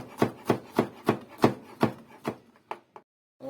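A knife chops tomatoes finely on a board in steady, evenly spaced strokes, seven or eight close, crisp thuds followed by a few lighter, scattered taps before stopping.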